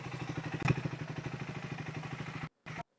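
Motorcycle engine running steadily with a low, even throbbing pulse, faint and distant-sounding, cutting out briefly near the end.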